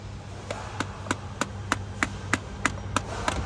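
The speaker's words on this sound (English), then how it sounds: "Just keep hammering on it like this." A hammer taps a seal into a Ford 6R140 transmission with about ten sharp, evenly spaced metallic blows over a low hum, close and clear.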